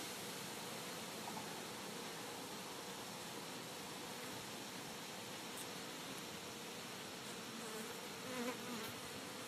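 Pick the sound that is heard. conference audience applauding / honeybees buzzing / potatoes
honeybees buzzing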